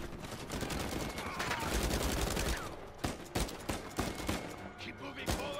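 Turret gunfire in the Uncharted 4 video game, a sustained barrage of rapid shots and impacts with a burning backdrop, loud throughout and breaking into sharper separate bursts toward the end.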